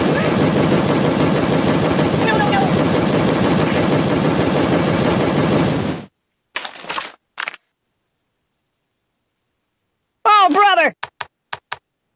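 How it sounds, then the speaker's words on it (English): Cannon firing in the Kick The Buddy mobile game, a long dense barrage of booming blasts followed by silence and then a few short separate bursts with brief voice-like cartoon effects. "cannon."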